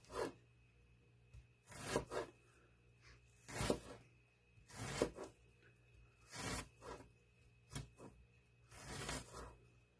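A knife cuts through a stack of tortillas for chicken enchiladas, slicing them into small pieces on a board, giving about eight distinct rasping, rubbing strokes at a steady rhythm, close and fairly loud, with no talking.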